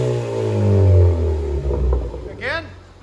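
A 2014 Ford Focus ST with a Flowmaster Flow FX exhaust revs up and falls back in one loud, close swell of engine rumble, followed by a short hiss and whoosh as it settles.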